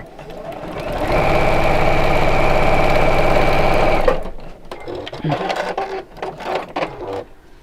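A sewing machine stitching fabric pieces together runs in one steady, loud, close mechanical whir for about three seconds, then stops, and a person talks afterward.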